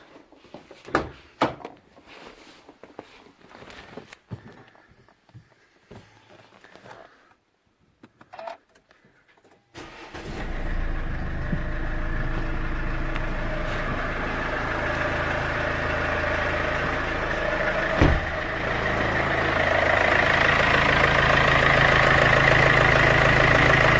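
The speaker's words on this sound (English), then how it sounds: "it's time for an engine start, and looks if it works okay" Clicks and clunks, then an Infiniti Q50 2.2 diesel engine cranks and starts after a V-belt, tensioner and pulley change, settling into a steady, rough idle that runs on continuously, close by.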